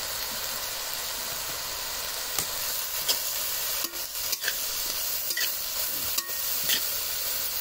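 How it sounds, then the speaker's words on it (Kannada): Chopped vegetables for spring rolls stir-frying in a hot pan, a steady close sizzle with scattered clicks and scrapes of the spatula throughout. "ವೆಜಿಟೇಬಲ್ಸ್ ಪೂರ ಅರ್ಧ ಫ್ರೈ ಆಗಿ ಬರ್ತದೆ."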